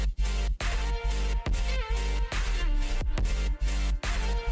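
A heavy electronic dubstep groove at 140 BPM with deep sub-bass and punchy drum hits pulsing in a steady, half-time rhythm.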